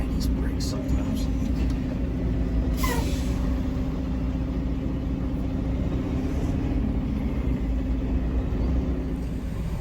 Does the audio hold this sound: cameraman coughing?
no